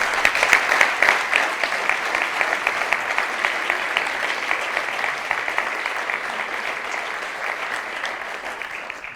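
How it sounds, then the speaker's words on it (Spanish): A room full of people applauds steadily, the clapping strongest at first and slowly tapering off. "Les pido un fuerte aplauso para ellos."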